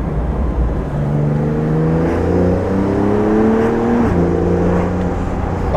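A Porsche Carrera T with PDK transmission revs up through rising engine tones, a smooth upshift partway through, loud and close with a steady throaty whir.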